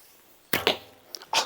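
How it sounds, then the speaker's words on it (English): A Sanlida wooden takedown recurve bow shoots arrows, giving a few sharp, short twanging snaps of the string, close and crisp, with quiet gaps between them. "Shoots nice. You hear a little twang."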